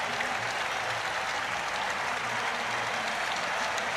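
Stadium crowd applauding at the finish of a men's 3000m steeplechase final at the World University Games, a dense steady roar of clapping and cheering that stays loud throughout.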